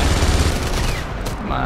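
Dense, continuous gunfire from a machine gun in the video game Enemy Front, a loud, steady barrage of rapid shots with battle noise throughout.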